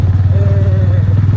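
Motorcycle ridden downhill toward town with rain threatening: a steady low engine drone with a pulsing rumble throughout, close to the microphone, with wind noise and a faint voice over it.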